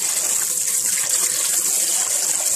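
Cold tap water runs steadily into a sink while rinsing fish, a continuous hissing gush with no voices.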